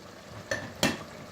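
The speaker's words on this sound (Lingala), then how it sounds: "nazobalola tomate na nguba esangana" Two short scraping stirs of tomatoes and peanuts (nguba) cooking together in a pot, each a brief soft swish about a third of a second apart, with a faint sizzle underneath.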